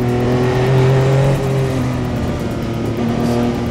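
Porsche 962 Le Mans race car engine pulling hard down a straight, a loud steady high-revving drone heard from inside the cramped cockpit, rising in pitch with a brief shift partway through.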